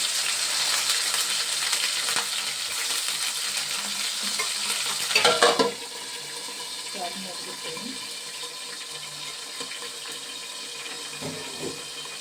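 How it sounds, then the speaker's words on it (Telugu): Onion and green chillies fry in hot oil, a steady broadband sizzle filling the first half, then a brief clatter of stirring before the frying settles into a quieter, continuous hiss with occasional scrapes. "ఉల్లిపాయ వేసుకుంటానండి."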